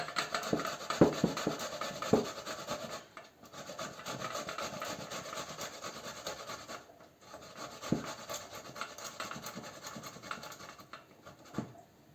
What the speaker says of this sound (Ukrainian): Спочатку нам треба потерти бурачок. Ось бурачок треба буде потерти на такі крупні терці.